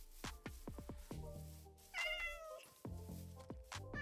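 Cats meowing in Minecraft, a run of short plucked-sounding blips followed by several drawn-out, wavering meows at moderate volume, with no voices over them.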